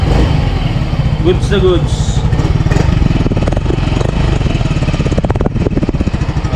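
A Yamaha Mio Gear 125 scooter engine runs close by with a fast, even putter and small rises in revs. People talk briefly over it.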